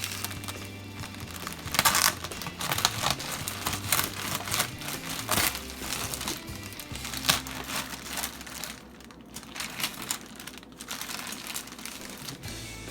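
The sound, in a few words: cutting plastic wrapping away from cooked turkey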